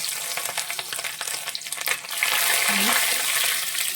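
Garlic cloves fry in oil with curry leaves for a bone curry, with scraping stirring clatter at first, then a louder, steady close sizzle that hisses continuously.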